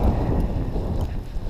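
Wind gusting during a snow blizzard, a rough low buffeting rumble against the microphone that continues throughout, with no clear voices.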